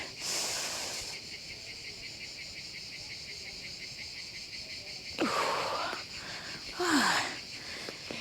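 Deep breathing during a Pilates exercise: airy, drawn-out inhales and exhales close by, the later breaths carrying a slight voiced, sighing tone over a faint background hiss.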